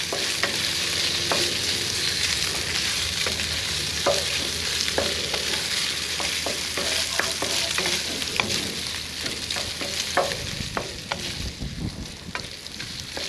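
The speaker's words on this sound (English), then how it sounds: "you're going to stir fry this for about 3 to 5 minutes. Constantly stirring." Pork fried rice stir-fries in a wok under a wooden spatula, with a loud steady sizzle broken by frequent rhythmic scrapes and taps of constant stirring, close up and free of talk.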